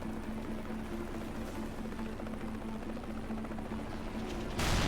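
Continuous gunfire aimed at a helicopter in the Mercenaries 2: World in Flames video game, a dense rattling fusillade over a steady engine drone, ending in a louder burst.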